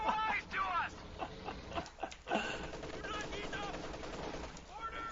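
MG34 machine gun in a Company of Heroes 2 match on Moscow Outskirts, rapid bursts of fire mixed with other game battle noise under a commentator's ongoing voice.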